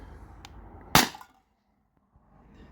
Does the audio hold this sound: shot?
yes